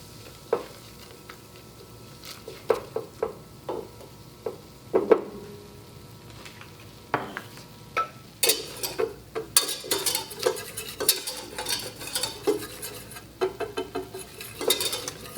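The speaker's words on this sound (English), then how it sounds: "So once the butter is molten, I'm adding the flour." Flour being stirred into melted butter for a roux, a soft sizzle under repeated scraping and clinking of a utensil against the pot, sparse at first and then busier and quicker, with no talk.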